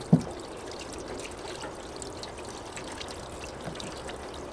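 Water runs softly from a tap in a steady trickle while toothbrushes are rinsed, faint and continuous, with a small knock at the start.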